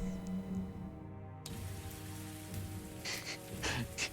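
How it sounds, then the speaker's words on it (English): Gentle rain patters softly and steadily over a murky mire, faint and continuous beneath quiet sustained background tones. "It's gently raining"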